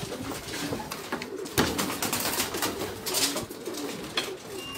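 A pigeon cooing in repeated soft, low rolling coos, close by, over a busy, noisy background without speech.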